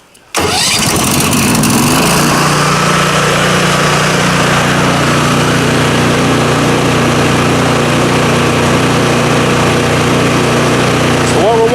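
A cold pressure washer trailer engine, choked to start, catches after a brief crank and settles into a loud, steady running drone that continues nearly twelve seconds, close by.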